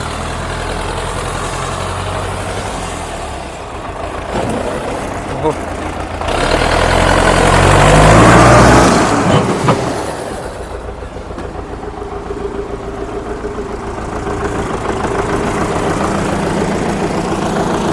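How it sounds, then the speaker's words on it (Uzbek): A Belarus 80X tractor's diesel engine idles steadily with a low, continuous rumble that swells briefly partway through, while a voice talks over it. "Traktorimizni motorlari ham juda ham tekis holatda ishlab turibdi."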